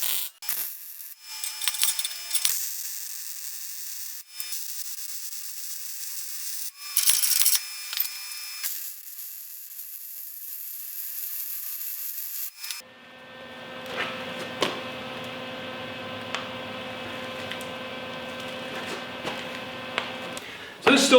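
MIG welder tacking a leg support onto a steel land rake, ground clamp attached: short crackling, buzzing bursts of arc separated by pauses, then a longer steady sizzling weld with a hum, fairly quiet and close.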